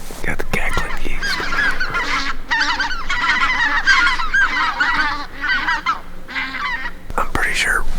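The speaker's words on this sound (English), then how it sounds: "Got the cackling geese." Cackling geese honk in repeated overlapping bursts at a moose camp in the Alaskan wilds, loud and fairly close, with brief gaps between calls.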